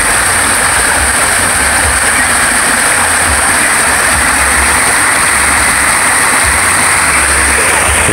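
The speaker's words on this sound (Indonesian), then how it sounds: "Ini air terjun." An artificial waterfall in a man-made park setting gives off a steady, loud, close rushing roar of falling water that holds unchanged throughout.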